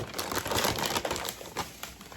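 A plastic snack bag is handled and opened, giving close, continuous crinkling and crackling with irregular sharp rustles over two seconds.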